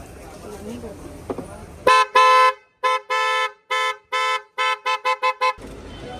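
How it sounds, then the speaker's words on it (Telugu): A car horn honks repeatedly in short, loud blasts, some quick and clipped, others held longer, after a stretch of quiet background noise. "ఇప్పుడు హార్న్ అయితే చెక్ చేస్తున్నారు"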